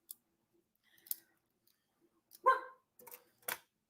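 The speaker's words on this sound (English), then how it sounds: "Don't bark at me anymore." A dog barks indoors: a single sharp bark in a quiet room, followed by a couple of softer short yaps and faint clicks.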